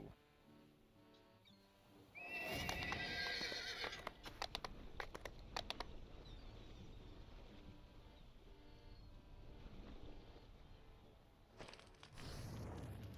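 A steam horse in the video game Dungeons & Dragons Online whinnies loudly over a low rumbling, clanking background, followed by sharp metallic clatter and steady mechanical noise.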